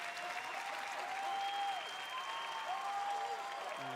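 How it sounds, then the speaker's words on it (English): Steady, sustained audience applause fills a Microsoft E3 2018 press conference hall after a Gears of War game reveal, a dense wash of clapping from a large crowd with a faint musical tone beneath. "That's the applause I guess you wanted for the first two games"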